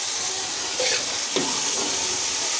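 Ground spices, green chillies and tomatoes fry in a pan with a steady, close sizzle, while faint stirring scrapes come through partway.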